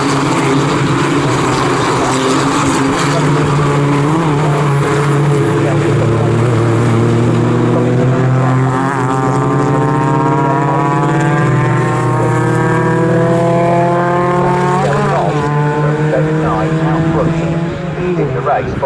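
Ford Fiesta race cars in a championship race at Snetterton circuit, engines droning loud and close with rising and falling pitch as several cars pass and change gear, a commentator talking over the noise throughout.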